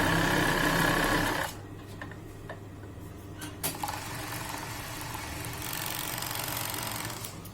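An overlock sewing machine stitching and trimming denim jeans: a loud, fast mechanical whir for about a second, then it stops, leaving quieter clicks, a soft tick, and a low background hum.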